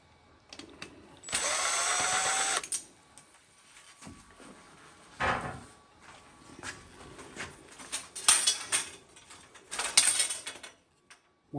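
Power tool backing screws out of an umbrella with a wasp-mudded plastic cap, a steady whirring drill burst followed by shorter intermittent buzzes and clicking handling noises, fairly close and without talking.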